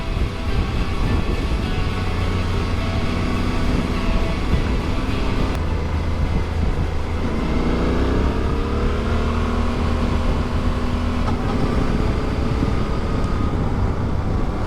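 A Suzuki motorcycle, either the V-Strom DE or the GSX-8S, is ridden at a steady pace, its engine drone and wind rush filling the clip continuously, with a gear change and a brief rise in revs midway.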